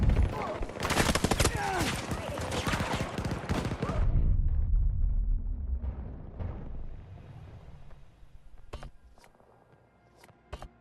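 Gunfire in the shooter game Battlefield 2042, with loud dense bursts and rumbling blasts for several seconds, then fading to low rumble with a few sharp distant shots near the end.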